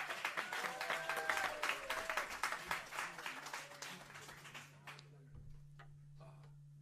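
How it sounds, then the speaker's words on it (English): Audience applause for a student jazz group at a UNC faculty jazz concert, a steady wash of many clapping hands that fades out over several seconds while a low sustained tone lingers beneath. "Let's have a round of applause for them"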